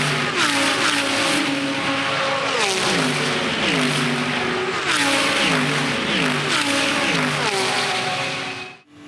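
A BMW M4 GT race car at the Bathurst 12 Hour passes close and loud with hard revving engine notes. Several sharp gear changes rise and fall over continuous track noise.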